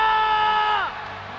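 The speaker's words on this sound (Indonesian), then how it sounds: "Mana tepuk tangannya?" Crowd at an esports grand final in a Jakarta arena cheering and whooping in a brief loud burst that fades quickly, with a voice over the noise.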